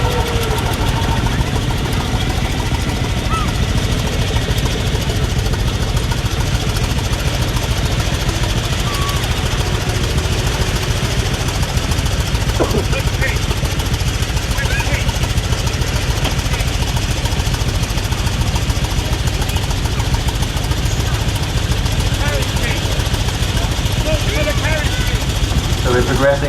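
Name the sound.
veteran car engine running at London to Brighton run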